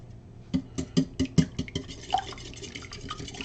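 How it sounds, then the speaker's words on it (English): Egg and milk whisked together in a bowl for homemade noodles, with a run of quick, light clicking strokes that grow softer and fade, close by with no talk. "You whisk all that together."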